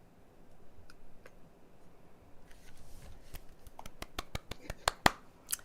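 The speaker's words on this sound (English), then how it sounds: "That's me clapping" A person clapping during a podcast of poetry readings, a run of sharp, close hand claps that starts sparse and quickens into a denser burst before trailing off, with faint room noise beneath.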